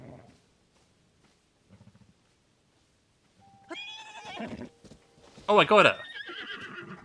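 A horse whinnies in The Legend of Zelda: Tears of the Kingdom, a clear high neigh rising near the end, with a short earlier call and a voice talking over part of it against otherwise quiet game sound.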